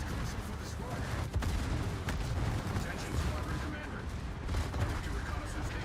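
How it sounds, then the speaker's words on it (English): Secondary guns on a German warship fire in the video game World of Warships, a dense, continuous rumble of distant gunfire and blasts heard under a talking voice. "these secondaries are awesome"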